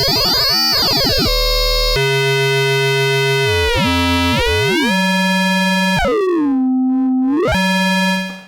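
A Cherry Audio DreamSynth software synthesizer plays bright FM patches, a series of sustained tones with sweeping, bending pitches and metallic harmonics, loud and alone before cutting off at the end.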